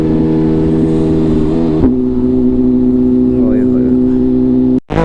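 A BMW S1000RR motorcycle rides along in fourth gear, its engine droning loud and close and dropping back as the throttle eases around two seconds in, with a brief sharp break near the end.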